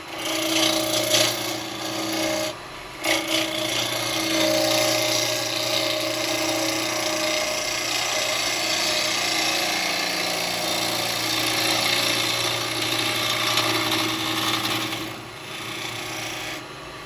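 A chisel cutting wood on a woodturning lathe while a pot and scoop are turned: a steady, loud scraping rasp that holds over the running motor hum, close by and with no talking.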